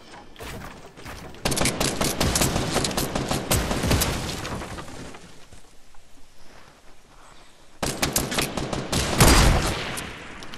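Gunfire in the video game Fortnite comes as loud rapid bursts of shots in clustered volleys, with a quieter stretch in the middle before heavier firing and a booming blast return near the end.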